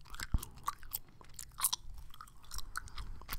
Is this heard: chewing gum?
yes